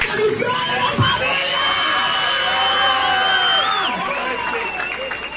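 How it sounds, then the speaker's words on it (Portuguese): A lively crowd cheers and shouts loudly, with clapping mixed beneath the excited voices, sustained for several seconds before easing off. "Uma salva de palmas"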